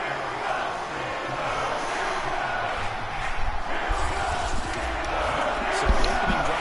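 A stadium crowd in the football game Madden 22 keeps up a dense, steady roar that swells slightly after an opening-drive field goal, with commentary voices over it.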